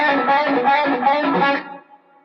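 A bass guitar played through a 2204-style amp tone with three stacked stages of gain and compression, sounding thick and distorted with a few sustained notes that cut off and decay near the end.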